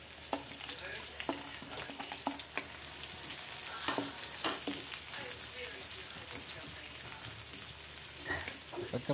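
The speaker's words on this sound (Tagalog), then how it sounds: "At mag-umpisa na po tayo mag-gisa" Garlic and onion sautéing in a hot pan, a steady close sizzle broken by occasional stirring clicks and scrapes.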